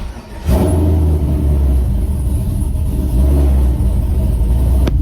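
Trailblazer SS truck V8 with a Performance Design carbon intake swapped in for the stock Vortec intake, idling then revving up into a loud, deep sustained rumble, close to the microphone, with a second swell of throttle midway and no talking.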